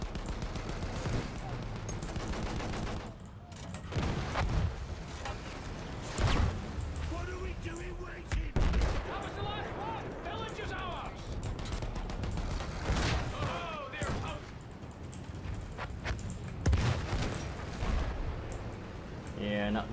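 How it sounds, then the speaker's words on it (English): Battlefield 1 campaign gunfire from a Big Bess tank battle, a dense rattle of shots and explosions around the tank, with a voice speaking over the din. "Something shooting at me from behind."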